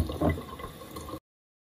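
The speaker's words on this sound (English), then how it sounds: "fill it up with water." Water pours briefly from a tap into a cup, a short gurgling splash that stops abruptly.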